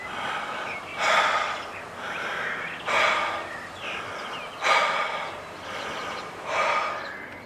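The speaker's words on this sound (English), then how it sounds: "I started spontaneously breathing like this" Heavy, deliberate breathing during a spontaneous emotional release, four or five loud breathy bursts about every second and a half with quieter breaths between, close and alone with no talk.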